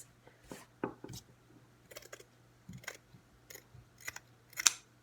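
Scissors cut through shirt fabric in a quiet room, a series of faint, irregular crisp snips and rustles spread across several seconds, close by with no talk.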